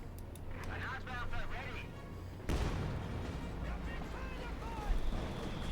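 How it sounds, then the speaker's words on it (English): Scott self-propelled artillery bombardment in the strategy game Company of Heroes 2, with rumbling booms and blasts, one sharp heavy impact partway in, heard under continuous commentary. "More bombardment here from Jibber's Scot."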